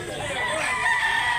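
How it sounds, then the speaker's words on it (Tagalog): Rooster crowing in a cockfighting-bird yard in North Cebu, a single sustained call amid some background noise. "Gandang manok dul."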